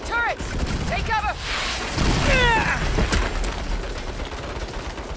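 Turret gunfire in the Saints Row reboot, heard as a dense, continuous fusillade of shots with blasts layered over it, while voices shout and call out above the firing.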